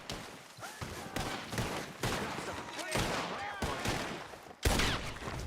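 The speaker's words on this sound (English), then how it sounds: "Oh, that's a shot." Gunshots in Red Dead Redemption 2: a string of sharp, loud cracks goes off over a busy, noisy game background, with a voice mixed in.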